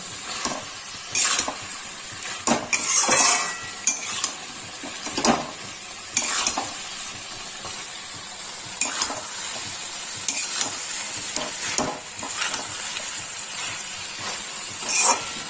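Chicken and vegetables fry in a pan for chicken chatpata, with a steady sizzling hiss broken by repeated scraping stirs, close and fairly loud.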